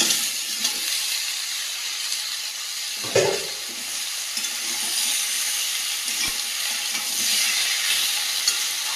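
Malabar spinach, potato and pumpkin frying in a pan for a winter vegetable dish, a steady broad sizzle running throughout with a brief stirring clatter near the middle, no voices.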